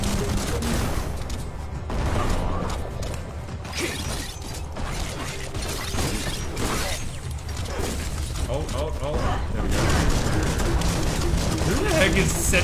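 Biomutant combat with explosives going off and rapid gunfire amid clattering mechanical effects, dense and continuous, while a person talks throughout.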